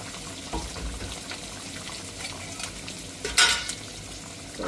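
Squid curry with tomatoes simmering in a pan, a low steady bubbling and sizzle with soft scraping stirs and one brief louder clatter near the end; no voices.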